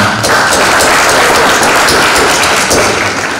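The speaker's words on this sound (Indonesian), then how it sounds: "Tepuk tangan untuk orang tua ini." Audience applause at a university graduation ceremony, a steady dense patter of many hands clapping throughout, loud and close, with faint low background noise and no clear talk.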